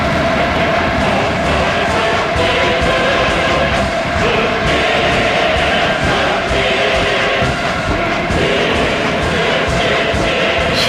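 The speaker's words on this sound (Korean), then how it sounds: "경의하는 원수님을 우러러 우렁찬 환호성 터쳤습니다" A massed crowd roars with loud, sustained cheering at a grand state celebration honoring the leader, a dense, unbroken wall of voices that never lets up.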